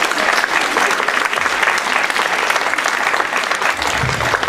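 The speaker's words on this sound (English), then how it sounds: "You should give yourselves a round of applause." Steady, full applause from an audience honoring students at a capstone projects keynote event, continuous and fairly loud throughout without pause.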